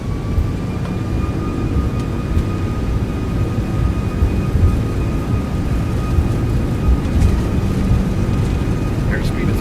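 Airbus A340-600 engines spooled to takeoff power in the X-Plane 12 simulator, a loud steady roar with broadband rumble and faint high whine, constant throughout.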